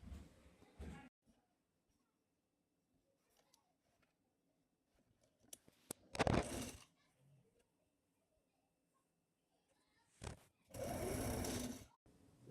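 A sewing machine stitches a sleeve onto a long gown in short separate bursts, the longest near the end, with quiet pauses and faint handling clicks between runs.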